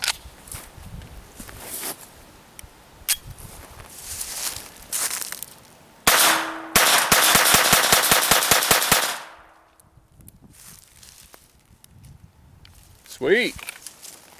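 A Smith & Wesson M&P 22 pistol fires a magazine of mixed Remington, Federal and Blazer .22 ammunition at an outdoor range, a rapid loud string of about a dozen sharp cracks, with scattered single shots and voices around it.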